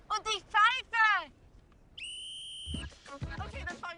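A single sharp referee-style whistle blast, about three quarters of a second long, signals the start of a timed game, with people speaking German just before and right after it.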